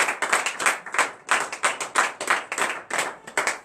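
A small church congregation at a morning prayer service in Benin claps in quick rhythmic bursts, near and fairly loud, with brief pauses between clusters of claps.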